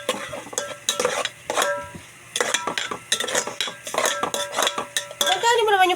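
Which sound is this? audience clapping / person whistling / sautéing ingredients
sautéing ingredients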